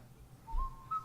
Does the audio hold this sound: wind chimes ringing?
no